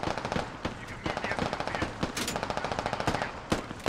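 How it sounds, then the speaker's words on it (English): Dense automatic gunfire in the tactical shooter game Squad, rapid overlapping bursts of shots crackling continuously at close to mid range, with a voice talking underneath. "JCP getting shot in the back by Paladin."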